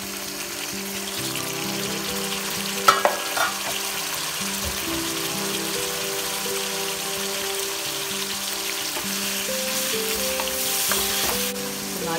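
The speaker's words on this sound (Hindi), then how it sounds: "अब हम इसमें डाल रहे हैं टमाटर।" Tomatoes hit a hot pan of fried onions and garlic for a beef and potato curry, giving a loud, steady sizzle with spoon stirring and a brief clatter early on, no talking.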